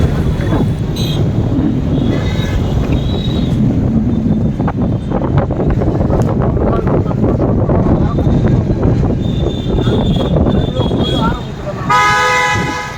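Wind buffets the open top deck of a bus touring the Pink City at night, a steady low rush. Someone talks over it, and car horns toot in the surrounding traffic, with a burst of honking near the end.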